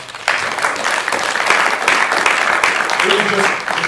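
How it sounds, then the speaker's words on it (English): Applause from a conference keynote audience, a steady wash of clapping lasting several seconds with a faint voice briefly audible near the end. "Shout out to John, give him a round of applause"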